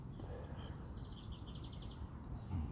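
Birdsong outside in the morning, a series of faint high chirps and short trills repeating over a steady low background rumble, distant and soft.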